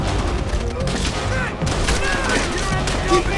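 Rapid machine gun fire rattles loud and close in Call of Duty: World at War, a dense continuous fusillade with thuds and battlefield booms layered underneath.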